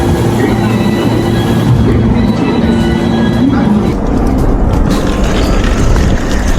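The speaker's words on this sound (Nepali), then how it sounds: "okay right time to take the train let's go" A train in motion in Japan makes a loud, continuous rumble with a droning hum and brief squealing tones, while voices murmur beneath the noise.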